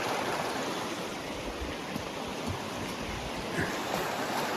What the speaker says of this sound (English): the water, it's rolling